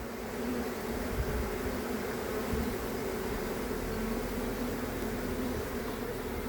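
A dense honeybee swarm buzzes continuously, a steady droning hum with no pauses and no voices.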